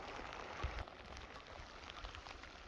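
Rain falling outdoors along the Deschutes river in Oregon, a faint, even hiss of steady drops with a soft thump near the start, no voices.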